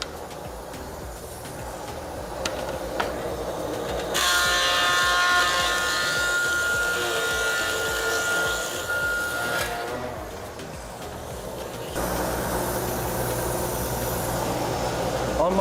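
A planer cutting a wooden board as it is thinned toward 3/16 inch: a steady, loud mechanical roar that rises sharply while the board feeds through, drops, then starts again for another pass.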